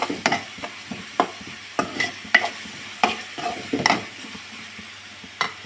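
A spoon stirs and scrapes through biryani masala spices frying in oil for chicken pulao, with sharp, repeated scraping strokes at an irregular rhythm over a soft, steady sizzle, close and clear.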